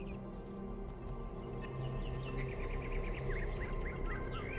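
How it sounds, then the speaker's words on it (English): Birds chirp outside a dome in the video game Talos Principle 2, faint scattered tweets and trills over a low ambient outdoor hum, with no voices. "Do you hear the birds chirping outside the dome?"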